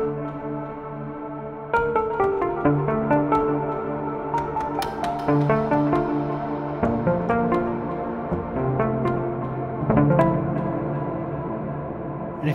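Electric piano notes and chords play in a slow, wandering line, each tone smeared into long washing echoes that pile up into a dense, ringing haze.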